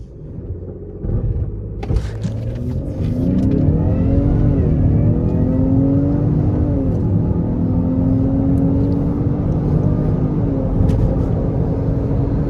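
A tuned Lincoln Aviator, modified to around 500 hp, launches from 2000 RPM: a brief clunk, then the engine revs hard with a rising, pulling howl that stays loud and close as the SUV accelerates.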